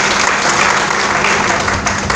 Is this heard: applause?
yes